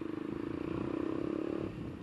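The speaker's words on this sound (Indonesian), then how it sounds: "Suaranya sih udah kayak knalpot racing" A motorcycle fitted with a racing-style exhaust rumbles nearby with a deep, pulsing idle note that swells briefly and then eases off.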